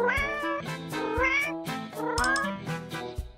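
A domestic cat meows repeatedly, a run of close, clear, wavering calls with rising and falling pitch and no other voices.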